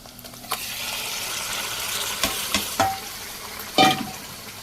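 Mutton fries in a pot with onions, green chillies, mint and turmeric, hissing steadily while a spoon stirs and clacks against the metal a few times, with the loudest knock near the end; no one talks.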